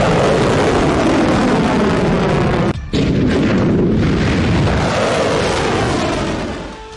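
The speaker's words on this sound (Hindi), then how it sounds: "इक्कीस दिसंबर को इजराइल का खौफ देखिए, यमन से हुआ ये मिसाइल हमला देखिए।" Missile explosions over Tel Aviv from an attack launched from Yemen: a loud, continuous, booming roar that fills the whole clip, with one sudden brief dropout partway through.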